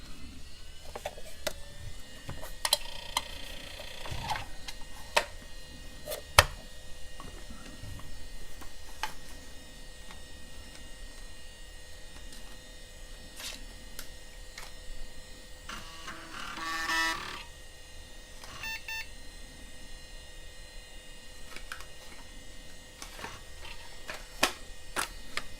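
An IBM 486 computer powering on and booting: a low fan and power hum with scattered clicks, ticks and drive seek chatter, a brief burst of whirring midway, no voices.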